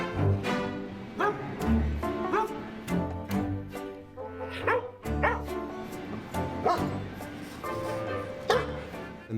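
Trained film dogs bark on cue in a series of close, punchy woofs and yips with some whimpering, irregularly spaced and overlapping, with brief background voices between barks.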